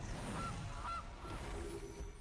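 A goose honks twice in a Magic: The Gathering match setting, short nasal calls spaced about half a second apart over a steady background hum.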